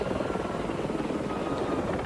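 A Gazelle helicopter flying in the Army's Silver Eagles display at the 1993 Biggin Hill air fair, its steady rotor thump and engine roar continuous and fairly close throughout.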